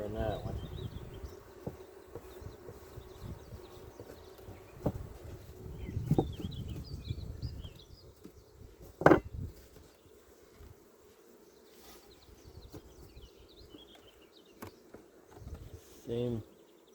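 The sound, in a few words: honey bees buzzing at an open hive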